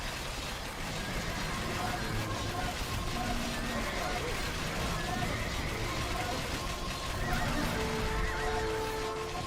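Cavalry horses in a strategy video game neigh and whinny repeatedly amid hoofbeats and a busy battle din, with a voice talking over them.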